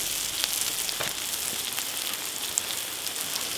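A grilled pastrami sandwich topped with cheese sizzles steadily over an outdoor braai grill, with close, continuous frying crackle and scattered sharp pops and no voices.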